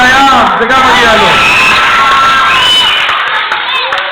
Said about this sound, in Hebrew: מחיאות כפיים לשמואל יוצא חיל הים, זה גם מגיע לו